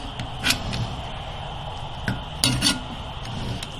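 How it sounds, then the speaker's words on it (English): Mexican rice being fluffed with a utensil in a Dutch oven, giving a few soft scrapes and light metallic clinks against the pot at irregular moments, close and fairly quiet. "Rice is fluffing well."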